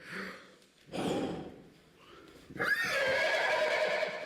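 A horse whinnies during a stage play, with breathy snorts and gasps first, then a long, loud, bright neigh that carries to the end.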